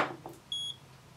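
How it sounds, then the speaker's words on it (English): A Creative digital LED clock, model 35490, gives a single short, high-pitched electronic alarm beep, thin and clear above faint room noise. "the alarm only works during that display function"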